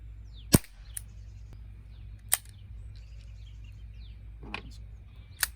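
An Umarex Beretta 92 CO2 pistol with an 8-shot rotary magazine fires at a target: two sharp, loud cracks a couple of seconds apart, then fainter clicks and taps over a quiet background hum.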